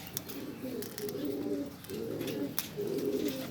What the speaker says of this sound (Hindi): आज मैं कबूतरों को दाना डालने आया हुआ था